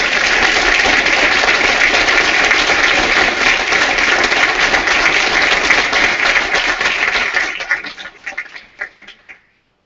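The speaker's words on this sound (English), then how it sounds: "That deserves another round of applause." Loud sustained applause from a large crowd at a school board meeting, steady clapping for several seconds before tapering off into a few scattered claps.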